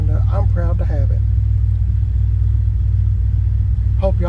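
A Chevy Squarebody pickup's old engine idles steadily while warming up, a loud constant low rumble throughout, with someone talking over it near the start and again at the end.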